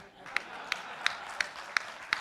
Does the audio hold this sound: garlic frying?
no